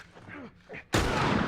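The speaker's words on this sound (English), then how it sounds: "So I took out a second guy with a bullet," A single loud gunshot in The Last of Us Remastered cracks out suddenly and rings with a broad blast and decay, after a brief stretch of game voices.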